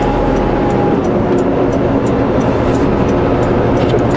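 A big rig truck engine runs at full throttle, a loud, steady, dense roar with a constant low drone and no letup, heard close.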